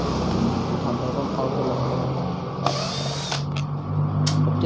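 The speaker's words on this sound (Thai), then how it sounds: "ผมจะเจาะรูมัน" A power drill bores a hole while working on a Makita MEM201S engine, grinding with a steady motor drone, then whining in a couple of short higher bursts near the end, with a voice talking over it.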